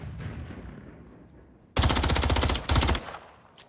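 Rapid automatic gunfire from a first-person shooter match on the Karachi map: a loud sustained burst of shots, a brief pause, then a second volley, after a quieter stretch of game ambience.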